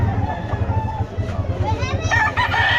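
A Peruvian rooster crows nearby, loud and drawn out, amid chattering voices and a few clucks at a pet market.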